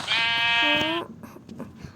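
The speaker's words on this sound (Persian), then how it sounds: "این گوسفندا رو آقا نویان حواست بهش باشه" Minecraft sheep bleating in a single clear, loud wavering bleat lasting about a second, followed by quieter game ambience with faint scattered clicks.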